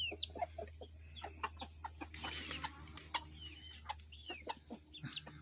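Backyard chickens cluck in short, soft, irregular bursts close by, with a faint steady hum underneath and no talking.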